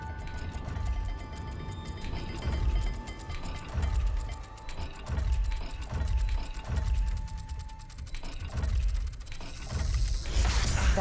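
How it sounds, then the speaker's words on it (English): Dial lock puzzle turning in Hogwarts Legacy, a run of mechanical ratcheting clicks over a low, rumbling game ambience, fairly quiet and steady, with the clicking thickening toward the end. "The dial requires focus."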